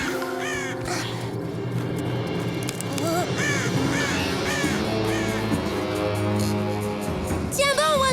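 Crows caw repeatedly in an animal cartoon, several harsh calls scattered over a busy, dense background of music and noise, loud and close.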